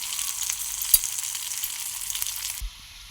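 Onions sautéing in a kadai for cauliflower sambar, a steady close sizzle with a brief sharper crackle partway through, then cutting off abruptly near the end.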